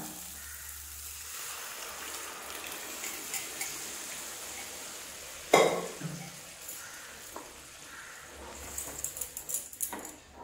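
Boiled dal tipped into a pan of fried spices: a quiet background sizzle, then one sudden loud splash as the lentils go in, followed by low bubbling and a few clinks of a utensil against the pan.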